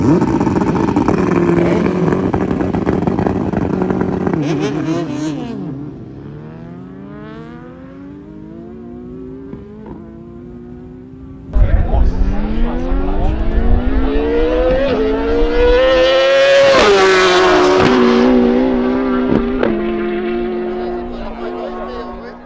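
A tuned BMW with a swapped turbo races past with a rising engine whine that climbs and falls across the pass, followed by a second loud, revving surge. Commentary-like voices run faintly underneath.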